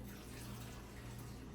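Water pouring steadily from a tap or container into a mixture while jerk chicken seasoning is made from scratch, a continuous soft rushing splash heard close up with no talking.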